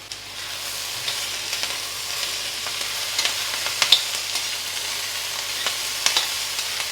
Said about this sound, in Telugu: ఈ మూకుడు ఫ్రైలకి ఎంత సూపర్గా ఫ్రైలు అవుతున్నాయండి